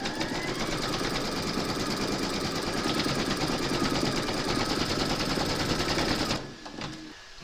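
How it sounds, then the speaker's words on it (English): An embroidery machine sews a placement line in the hoop for in-the-hoop bunny slippers, a loud, rapid mechanical stitching rattle that runs steadily for about six seconds before stopping abruptly. "Pop your hoop into your machine and stitch round number 2 to secure it."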